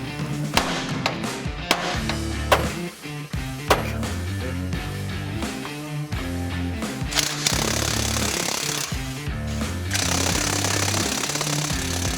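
Repeated hammer blows knocking the pitman arm and drag link loose from the steering gear of a RAM 2500 pickup, sharp metallic whacks at irregular intervals over continuous clattering and mechanical noise.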